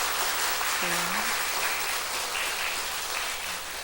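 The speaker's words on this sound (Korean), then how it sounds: "오늘 정말 잘 오셨습니다 하는 축하의 박수를 드리겠습니다." A church congregation at a revival meeting applauds in welcome, a broad steady wash of clapping throughout, with a brief spoken word from a voice near the start.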